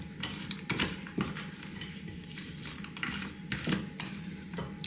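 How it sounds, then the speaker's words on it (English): Quick stir of a sweetened condensed milk fudge mixture for Terry's Chocolate Orange fudge, a spoon clinking and scraping against the bowl in a rapid series of close, sharp taps. "And then a quick stir."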